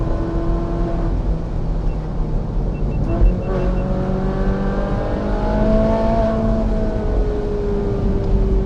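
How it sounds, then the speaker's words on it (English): A Ferrari 458 Spider's engine drones steadily and loudly, its pitch rising and sliding through the revs with a smooth, continuous roar from start to finish. "Just listen to that engine."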